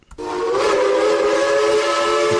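A steam train whistle blows one loud, sustained, hissy blast that starts abruptly and holds steady to the end, with nothing else heard.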